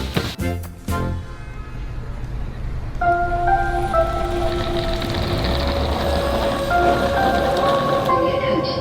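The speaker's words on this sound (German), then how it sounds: "Also man merkt, es regnet, wir sind in London." Steady rain falling in London, a dense hiss of drops on surfaces with some street and traffic background; a few tonal hums and a brief clatter at the start, and voices can be heard under it.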